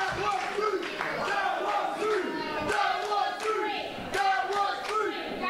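At an RWA wrestling event, the crowd erupts after a kick out at two following a frog splash, with loud shouting and chanting, scattered claps and sharp slaps, while a voice talks over the noise throughout.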